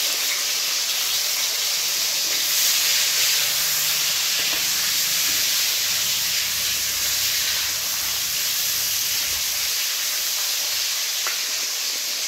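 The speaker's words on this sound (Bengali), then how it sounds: "আদা ভাজা হয়ে গেছে, টমেটো কুচি দিয়ে দিচ্ছি।" Chopped tomato hits hot oil with fried ginger and sizzles with a loud, continuous steamy hiss, close and even throughout, for a vegetarian paneer masala, with no one talking over it.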